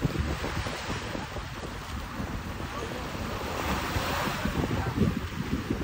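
Ocean waves at a beach in fine weather, a continuous loud wash of surf mixed with wind buffeting the microphone, swelling slightly toward the end with no talk.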